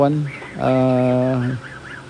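Ducks, geese, Peking ducks and turkeys kept in a pen, with one loud, close, drawn-out honking call after a shorter cry, and a faint voice behind them.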